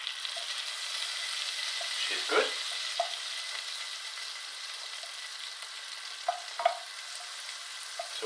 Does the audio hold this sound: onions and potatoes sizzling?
yes